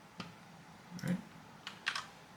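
A few sparse key taps on a computer keyboard as a password is entered, quiet and close, with irregular clicks spread over a couple of seconds.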